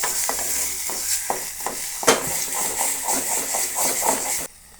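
Green mashed eggplant bharit, village style, being stirred in a pan, giving repeated scraping and stirring strokes over a steady, gentle sizzle that carries on throughout.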